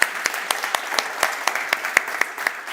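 Audience applause at a technology conference stage, a thin, steady patter of scattered hand claps with sharp individual smacks recurring throughout, fairly close and moderately loud, no talking.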